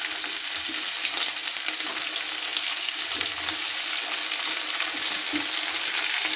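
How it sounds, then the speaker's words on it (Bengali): Vegetables stir-frying over high heat for chicken manchurian, a loud, continuous close sizzle with occasional stirring scrapes and no talking. "সবজিগুলো হাই হিটে একটু ভেজে নিব।"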